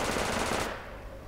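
Video game gunfire rattles as a loud, rapid automatic burst that cuts off after about half a second, leaving a fading roar of background noise.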